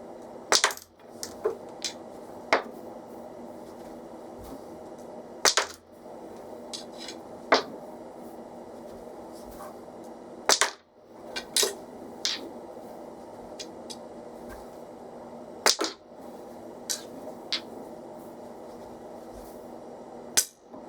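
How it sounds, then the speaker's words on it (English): A pool cue strikes the cue ball with maximum spin, using Brunswick chalk, sharp isolated cracks every few seconds, each followed by lighter clicks of balls colliding and dropping, in a quiet room with a low hum. "I'm going to put maximum spin on my cue ball and see how many times I can make the object ball without miscuing with each type of chalk"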